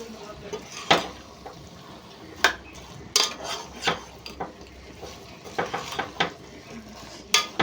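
Soy chunks (meal maker) fried and stirred in masala in a pan, with close, irregular clinks and scrapes of a spoon against the metal over a low cooking background.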